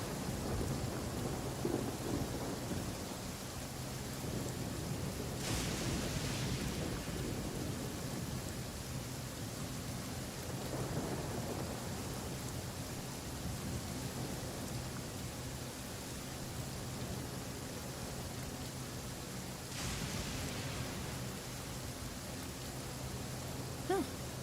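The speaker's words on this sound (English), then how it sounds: "It's raining again?" Steady rain pours in Genshin Impact, with rolls of thunder rumbling in at intervals over the continuous hiss of the downpour.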